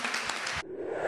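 Studio audience on an Italian TV singing show, Anch'io Canto, breaks into dense applause that fills the first half-second, then cuts off abruptly, leaving only quiet room tone.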